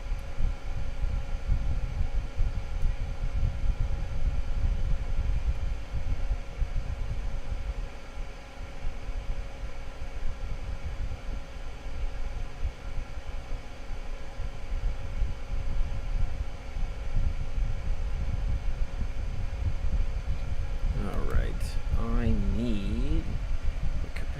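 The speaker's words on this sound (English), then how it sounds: "I actually need to turn on the fume extractor" A fan runs with a steady, loud whooshing hum throughout, broadband and unchanging, with a brief faint voice near the end.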